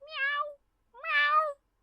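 A person imitates a cat's meow with two drawn-out, voiced calls separated by a short pause, close and clear with nothing else behind them.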